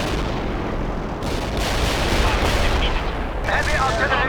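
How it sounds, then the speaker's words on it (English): Heavy artillery fire in the real-time strategy game World in Conflict: a dense, continuous barrage of booming blasts and crackling gunfire, loud and close, with battlefield radio chatter mixed in. "Heavy artillery."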